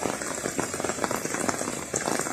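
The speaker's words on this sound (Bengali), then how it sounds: "এখন এই মুহূর্তে বৃষ্টি লাগছে।" Winter rain falls onto a pond in rural Bangladesh, a dense, steady patter of drops hitting the water close by, continuous and fairly loud with no talking.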